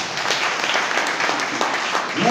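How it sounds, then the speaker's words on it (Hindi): Dense, steady audience applause at a talk in a hall, many hands clapping continuously at close range and fairly loud, with a voice briefly audible at the end. "एक बार जोरदार ताली हो जाए"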